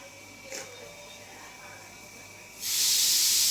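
Cabbage drops into a hot pan and bursts into a loud, bright sizzle in the last second, after a quieter stretch of low kitchen hiss with a brief clatter near the start.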